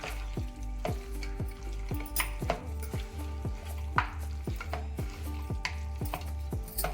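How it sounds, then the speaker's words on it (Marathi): Mutton being mixed with spices in a metal vessel for marinating produces a brisk, regular series of clanks and scrapes, close by and fairly loud, with no talking. "आता आपण हे सर्व चांगलं मिक्स करून घेणार आहोत"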